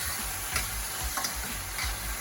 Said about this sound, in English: While those onions are caramelizing